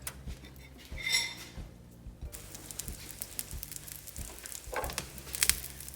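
A semolina omelette cooks in ghee in a non-stick pan over medium heat with a soft, uneven sizzle, broken by scattered light ticks and a few utensil clinks.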